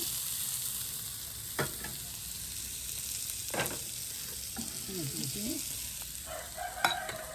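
Onions sauté in a pan until golden for a Jaffna-style prawn dish. A continuous close sizzle runs throughout, broken by occasional scraping stirs of a spoon against the pan, and no one speaks.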